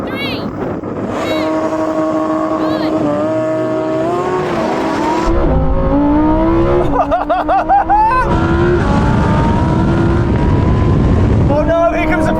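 A Ferrari 488 Pista, Lamborghini Huracán STO and Porsche 911 GT3 launch in a drag race, with loud engines revving and rising through gears. Each upshift brings a drop in pitch, then the roar builds again as they pull away. Voices are faintly audible.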